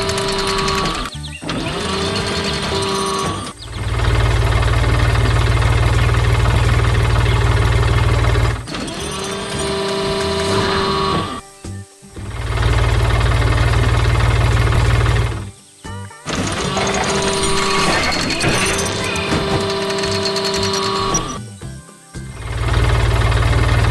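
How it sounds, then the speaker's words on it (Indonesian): An animated blue farm tractor with a loader works in a flower garden. Its engine chugs loudly in long bursts, with short pauses between them, over a bright, tonal musical layer. "Lihat traktor biru yang sedang bekerja keras di tengah kebun bunga"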